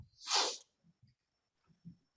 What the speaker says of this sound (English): So I sneezed at the inopportune moment